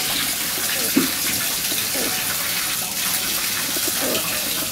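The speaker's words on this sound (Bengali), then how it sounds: "দেখুন কবুতরগুলো একা একাই গোসল করতেছে" Pigeons splash in water while bathing, a constant close wash of splashing and gushing with small bursts of flicking.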